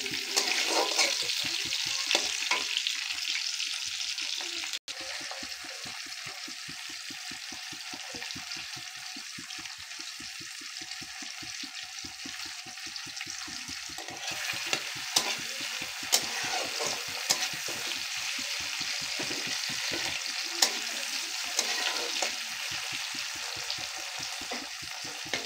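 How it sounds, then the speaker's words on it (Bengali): Chopped tomatoes sizzle steadily in hot oil in a pan while being stirred, with a dense broadband crackle and a quick rhythmic scraping of the utensil that runs throughout, close and fairly loud, with no talking. "একটু নাড়াচাড়া করবো, মানে টমেটোটা যতক্ষণ না গলে যাবে ততক্ষণ একটু নাড়তে হবে।"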